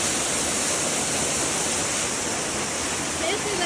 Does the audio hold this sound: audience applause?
no